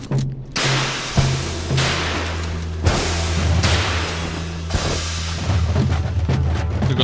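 Heavy machine-gun fire and booming shots aimed at the player in the video game Ape Out, coming in loud, dense bursts separated by brief gaps, with a low rumbling drone underneath and no talking.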